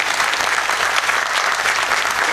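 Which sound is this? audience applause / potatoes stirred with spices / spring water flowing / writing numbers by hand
audience applause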